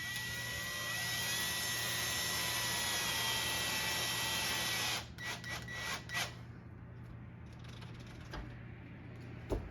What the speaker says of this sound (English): we'll slowly push it in, drill it in so that it'll create its own threads